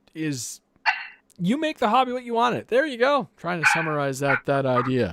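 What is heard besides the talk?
dog barking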